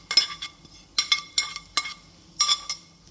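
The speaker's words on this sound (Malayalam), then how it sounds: "ഇനി നമുക്ക് നന്നായിട്ടൊന്ന് മിക്സ് ചെയ്ത് കൊടുക്കാവേ" A spoon clinks repeatedly against a bowl in short, bright taps while unniyappam batter is stirred with coconut bits, sesame and ghee, close and clear with no talk.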